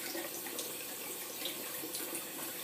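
Warm water runs from a tap into a sink, a soft, steady hiss of flowing water with no talk over it.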